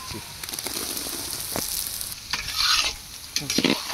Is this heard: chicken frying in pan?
yes